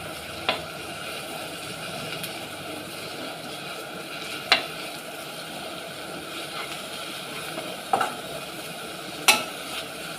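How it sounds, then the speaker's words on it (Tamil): Coriander and mint leaves are sautéed in a pan, giving a steady low sizzle broken by a few sharp clicks of a spatula scraping the metal. "கொத்தமல்லி, புதினா சேர்த்துட்டு இன்னும் கொஞ்சம் நேரம் நல்லா வதக்குறோம்"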